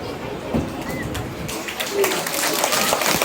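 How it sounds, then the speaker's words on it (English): Audience applause for a group of girls after a performance at a school Children's Day celebration, a steady broadband patter of clapping throughout, with a few faint bird coos and some background voices. "Let's give a round of applause to these girls."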